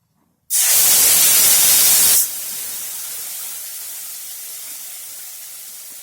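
Spice paste of cumin, coriander and chili hits hot oil for a Bengali cauliflower curry, bursting into a loud, sharp hiss that eases after about two seconds into a steady, quieter sizzle.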